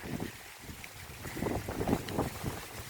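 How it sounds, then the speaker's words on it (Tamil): Strong wind gusts through a banana farm, a rushing roar that swells and buffets the microphone and builds toward the end of the clip. "காற்று பயங்கரமாக அடிக்குது"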